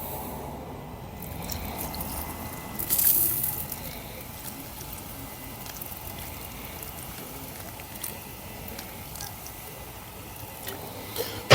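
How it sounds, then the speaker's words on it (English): Beer is poured over country-style ribs in a pan, a soft continuous splashing and trickling of liquid with a brief louder gush partway through. "I want to pour a little more beer in there."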